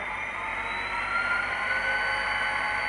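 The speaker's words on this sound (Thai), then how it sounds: "เขาจะต้องเร่งเครื่องขึ้นมาก่อนคือหน่วงนิดนึงเพื่อที่จะขยับเดินหน้า" An HO scale EMD SD40-2 model locomotive with an ESU LokSound decoder plays a diesel engine sound that revs up steadily, a loud continuous mid-range drone with a whirring edge that holds throughout, with no talk.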